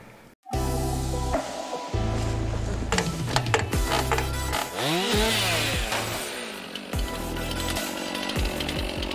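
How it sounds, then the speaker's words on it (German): A chainsaw at a chainsaw training course in Hauenstein, Südwestpfalz, roars loud and close, its engine revving up and dropping back repeatedly in uneven bursts as it works through wood. "Der Lehrgang an der Kettensäge"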